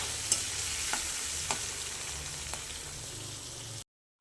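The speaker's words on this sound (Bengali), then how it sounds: "তার জন্য চিংড়ি মাছটা ভেজে নিচ্ছি।" Prawns sizzle steadily in a hot pan of oil, fried ahead of a bottle gourd and prawn dish, with a few light stirring taps through the close, continuous hiss before it cuts off abruptly.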